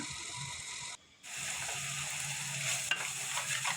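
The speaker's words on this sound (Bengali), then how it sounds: "তো মশলাটাকে আমি আরও কিছুক্ষণ কষিয়ে নেব" Spice paste with small shrimp, salt and green chilies sizzling in oil while a spoon stirs and scrapes the pan, a constant close frying hiss with a brief pause near the start.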